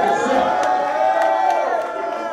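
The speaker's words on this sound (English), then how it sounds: "So all y'all give a round of applause for your motherfucking selves" An indie showcase audience cheers and whoops in a dense, loud, sustained crowd roar with scattered shouts, heard close and continuous throughout.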